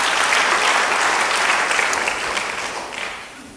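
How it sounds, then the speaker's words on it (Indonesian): Congregation applauding together during a church sermon, a steady wash of many hands clapping that holds loud, then gradually fades toward the end. "Beri tepuk tangan bagi dia."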